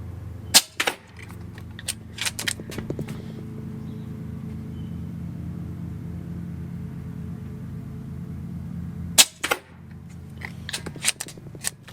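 A Kral Puncher NP-01 air rifle fires pellets at 30 metres: a couple of sharp, snappy shots close together near the start and another pair later, over a low steady hum, with no speech.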